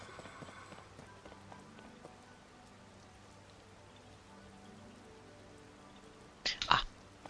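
Steady, soft rain falls in The Legend of Zelda: Tears of the Kingdom, a faint continuous patter with no talking, broken near the end by a brief, louder rustling burst.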